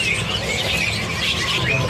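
A luxury imported songbird calls at a bird market, giving a steady run of chirps and squawks over dense, busy market background noise across the whole stretch.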